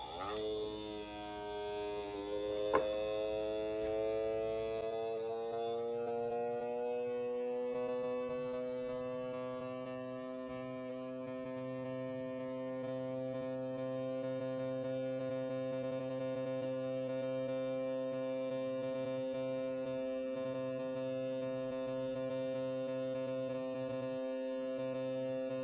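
A Mason Genie jar vacuum sealer runs with a steady electric motor hum and buzz, starting with a brief click and continuing evenly and moderately loud, close by.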